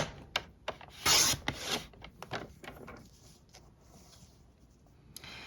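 Paper strips being cut for a handmade birthday card, with short crisp cutting strokes, one louder swipe near the start, then quieter rubbing and sliding of paper, close and alone.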